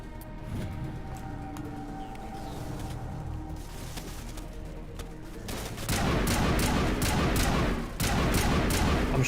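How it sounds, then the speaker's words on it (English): Gunfire at a tree in Mass Effect starts as low rumbling ambience, then a rapid volley of loud, evenly spaced shots erupts partway through and keeps going to the end. "I'm shooting a tree."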